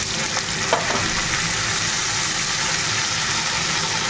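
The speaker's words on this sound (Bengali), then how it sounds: "এই মাছটা একটু কড়া করে ভাজবো মেয়েটার জন্য" Fish fries crisp in hot oil in a pan tempered with cumin seeds, giving a dense, steady sizzle that runs unbroken throughout with a few small pops.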